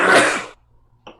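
A single loud, close sneeze bursts out in the first half second, then a short quiet gap before a brief faint breath or sniff at the end.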